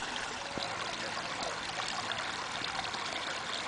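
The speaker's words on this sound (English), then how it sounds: "It seems there has got to be a plan that can capture rainwater runoff." Rainwater runoff rushes steadily like a small stream, a continuous broadband wash of flowing water with no voices, fairly close and constant throughout.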